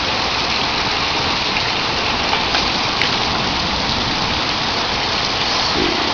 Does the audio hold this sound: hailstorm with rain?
yes